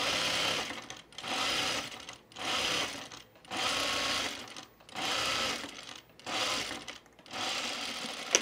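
A Kenmore sewing machine stitches fabric for pajama bottoms in bursts of about a second each, seven runs of steady whirring motor and needle chatter separated by short pauses, close and clear with no talk.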